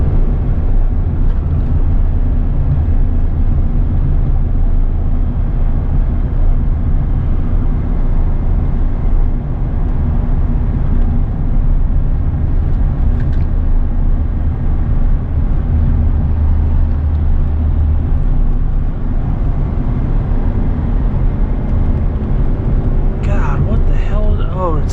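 A 24-year-old truck with an 8.1-litre gas V8, towing 18,000 pounds on light throttle: a steady, loud low drone runs throughout, with voices talking over it from inside the cab.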